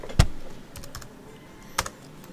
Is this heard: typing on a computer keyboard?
yes